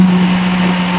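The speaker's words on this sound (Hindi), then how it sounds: "अब ये दोबारा तेज़ी से घूमने लगा मिक्सचर, क्योंकि इसमें मक्खन और बालाई होना शुरू हो गया।" Steady, loud whirring drone of an electric mixer grinder churning milk cream into butter, a continuous motor hum running alone without talk.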